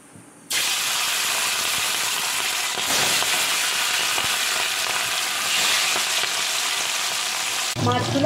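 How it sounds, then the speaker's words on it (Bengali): Hilsa fish pieces fry in hot oil with a loud, steady crackling sizzle that starts abruptly and continues unbroken, close and without talk. "এবার মাছগুলো ভেজে নেব"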